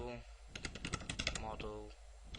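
Soft computer keyboard keystrokes tap in a brief quick run, faint and partly blended with a voice speaking nearby.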